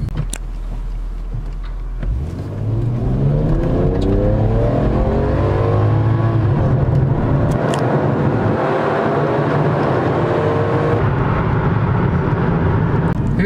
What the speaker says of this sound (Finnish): katsotaan, että miten tämä auto kiihtyy